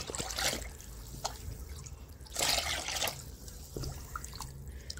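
Water mixed with liquid fertilizer and rotted mustard-cake water being poured and stirred in a garden for winter vegetable plants, giving close splashy trickles and drips in several bursts with no talking.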